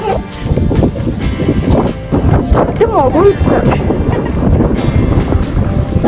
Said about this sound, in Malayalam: നല്ല കാറ്റ് കാറ്റ്